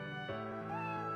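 A cat meows in a video game, a short, clear mid-pitched call rising over steady background game music, close and fairly loud.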